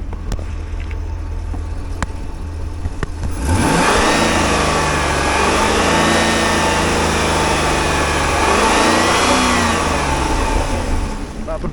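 A 2008 Chevrolet Corvette C6 with a 128,000-mile LS3 V8 idling, then revved up, its rising and falling tone held steady and loud, close by, with no talk.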